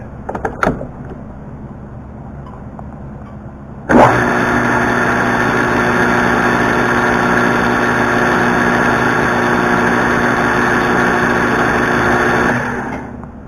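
Coil winding machine starting up and running at 600 RPM, a sudden loud onset into a steady mechanical hum and whine that holds for several seconds before easing off.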